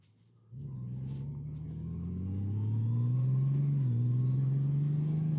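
A new 2025 Honda Gold Wing touring motorcycle pulls away and cruises, its engine note rising into a steady, smooth mid-pitched drone with a low rumble that builds and holds near and loud.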